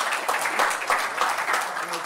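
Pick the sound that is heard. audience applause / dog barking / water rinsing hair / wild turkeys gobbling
audience applause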